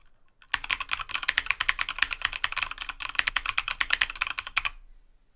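Rapid typing on a mechanical keyboard, dense clacking keystrokes in a fast irregular rhythm for about four seconds, close and crisp, starting and stopping abruptly with no speech.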